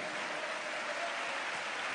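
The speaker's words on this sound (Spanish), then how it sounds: "Un aplauso al que vive para siempre." A church congregation at an evangelistic service applauds in a dense, even roar of many hands, loud and continuous with no break or voice standing out.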